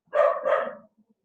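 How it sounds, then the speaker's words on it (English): A dog gives a single short, loud bark outdoors, a double-pulsed yelp followed by quiet. "What's he barking at?"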